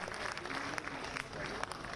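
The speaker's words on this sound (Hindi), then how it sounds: "मुख्यमंत्री के पहुंचते ही किस तरीके से तालियों की गड़गड़ाहट के साथ" Auditorium audience applauding Chief Minister Ashok Gehlot's arrival at a swearing-in ceremony, dense sustained clapping throughout, heard somewhat distant with a faint voice mixed in.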